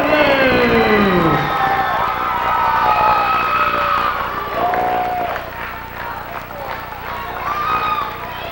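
A wrestling match crowd roars and cheers loudly for a masked wrestler, sustained shouts and whistles with rising and falling waves, while an announcer talks over the din.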